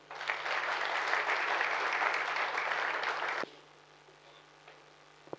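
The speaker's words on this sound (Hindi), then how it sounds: "अब एक बार अपने लिए ताली बजाओ आप" Sustained applause from an audience at a network marketing training seminar, loud and dense for about three and a half seconds before stopping abruptly, leaving a quiet room with a faint steady hum.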